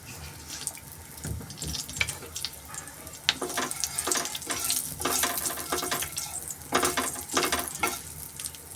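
Cumin seeds and asafoetida sizzle in hot oil for Gujarati green toor kachori filling, a steady close crackle with sharper spatters and a few stirring scrapes throughout, no talking.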